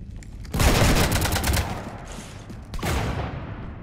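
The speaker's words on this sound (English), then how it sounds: "You want to stop shooting up my ship?" Rapid gunfire in the video game Mass Effect 3, aimed at a ship: a dense loud burst of shots lasting over a second, a short pause, then another burst, with no talk.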